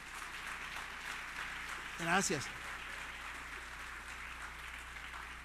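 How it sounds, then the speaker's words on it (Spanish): A church congregation claps for the Lord, a steady wash of applause that swells briefly while a voice speaks a short word over it. "Dale un aplauso al Señor."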